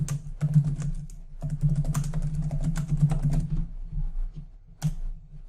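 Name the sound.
typing on a computer keyboard in Word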